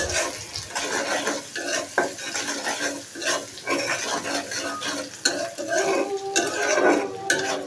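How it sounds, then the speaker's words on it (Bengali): Hilsa fish fries in a pan without turmeric or salt, producing a close, bubbling sizzle mixed with frequent knocks and scrapes of a utensil against the pan. "একদম হলুদ লবণ ছাড়া ইলিশ মাছটা আজকে ভাজি করছি"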